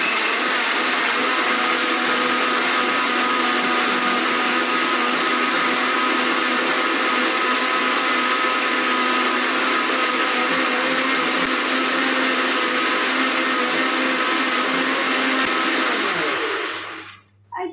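A mixer grinder whirs loudly and steadily for about sixteen seconds blending dragon fruit juice, then cuts off abruptly near the end.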